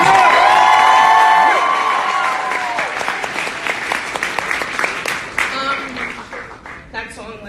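Crowd at a book signing in a Barnes & Noble breaking into loud applause and cheering with whoops, gradually thinning to scattered clapping and voices.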